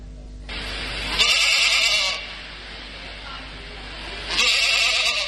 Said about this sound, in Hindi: बकरी के बच्चा मिमियाए